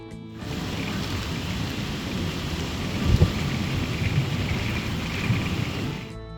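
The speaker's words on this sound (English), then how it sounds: "We watched the storm blow in and the wind rip through the campground." A thunderstorm with wind and heavy rain sweeps through a campground at Foscue Creek Park in Demopolis, Alabama: dense rain hiss and gusts, with a low thunder rumble swelling near the middle.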